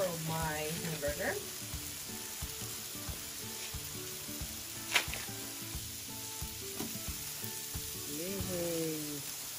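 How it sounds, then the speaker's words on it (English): Hamburger patties sizzling on an outdoor grill at a Labor Day cookout, a steady close frying crackle with occasional clinks and faint talk. "Okay, so I'm gonna add more of my hamburger."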